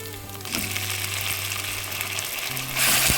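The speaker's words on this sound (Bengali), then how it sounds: "এবার সিদ্ধ করে রাখা কচু শাকটা দিয়ে দিচ্ছি।" Boiled taro leaves fry in a pan with garlic and green chillies, a steady close sizzle with a low hum beneath, swelling louder near the end.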